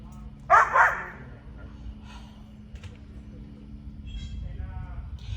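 A dog gives a sharp bark, then trails off into thin, high whines that repeat near the end, with a person's voice and low background rumble underneath.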